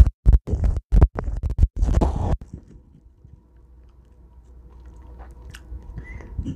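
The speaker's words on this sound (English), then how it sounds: "I'll put the mic inside my mouth so you can hear me chewing." Chewing heard with a microphone inside the mouth: about ten loud, wet, rhythmic chomps in quick succession over two seconds, then quiet, low internal rumbling and faint clicks.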